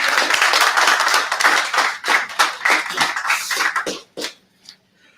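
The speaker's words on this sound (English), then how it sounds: "could I have a round of applause, please?" A burst of enthusiastic applause from a room of people, steady clapping that thins out and fades to a few last claps.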